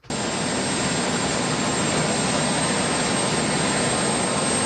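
Presidential helicopter from a played news broadcast, a steady loud turbine roar with broadband rotor wash that holds constant throughout, no voices over it.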